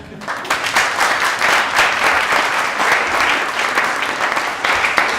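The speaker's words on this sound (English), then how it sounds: "raucous round of applause" A room full of people at a design talk event at Leeds Digital Festival breaks into steady, loud applause, dense overlapping clapping that carries on for about five seconds without a break.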